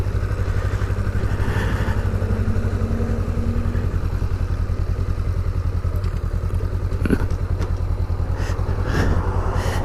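Honda Rebel 500 motorcycle engine droning steadily and loudly throughout a ride, with wind buffeting and a few clattery bumps near the end.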